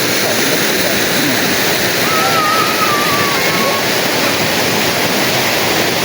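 A powerful waterfall at a campsite in Santa Maria, Laguna roars in a loud, continuous wash of falling water, with a faint voice briefly audible in the middle.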